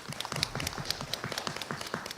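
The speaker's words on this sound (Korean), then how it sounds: "뜨거운 박수로 모시겠습니다." An audience at a community governance results-sharing meeting applauds to welcome a speaker with brisk, uneven clapping from a modest crowd. The overlapping claps stay at a steady, moderate level throughout.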